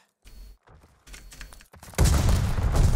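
A grenade goes off in a Call of Duty Vanguard search-and-destroy match, a sudden loud explosive roar that sustains for the last second after quieter clicks and shuffling game sounds.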